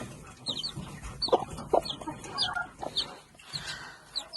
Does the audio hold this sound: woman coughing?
no